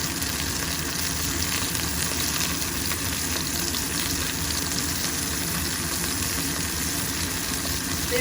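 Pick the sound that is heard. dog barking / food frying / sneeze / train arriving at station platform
food frying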